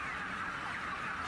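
A crowded broiler shed full of chickens gives off a dense, continuous chorus of overlapping clucks and calls, steady and fairly faint in the background with no speech.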